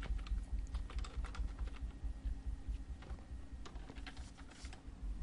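Rapid typing on a computer keyboard while filling in name, address and city fields on a county probate form, soft close clicks in irregular bursts with short pauses, no talking.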